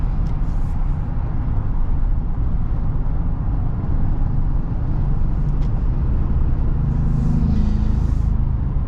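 Steady, loud low rumble of a 2022 Chevy Silverado pickup with a high-output 2.7-liter turbocharged four-cylinder engine, driving on the highway, with engine and road noise constant throughout and no talking.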